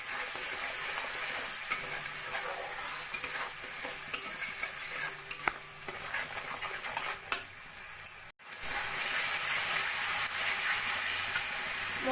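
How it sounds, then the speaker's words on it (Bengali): Spice paste with ginger-garlic, salt, turmeric, cumin and chili powder sizzles and fries in oil for a cauliflower curry, with a steady hiss, occasional stirring scrapes, a brief near-silent gap, then the sizzle resumes loudly. "দিয়ে ভালো করে মশলাটা কষিয়ে নেব।"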